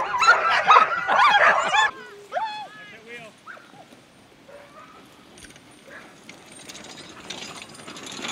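Excited sled dogs being hooked up to 6- to 12-dog teams before a training run, with a burst of loud barking followed by whimpers, yelps and clinking harness gear, while a person talks.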